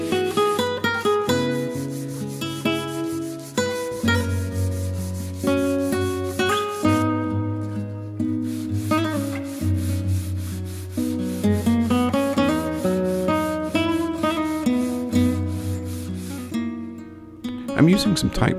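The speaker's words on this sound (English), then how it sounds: "you do want to do some sanding before you assemble the pieces" Steady rubbing and scraping of sandpaper on wooden bread cutting board pieces, in repeated strokes, running under a person talking throughout.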